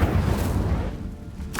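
Incendio fire spell cast in Hogwarts Legacy: a deep booming whoosh of flame that rumbles and fades, followed by a short sharp crackle near the end, no talking.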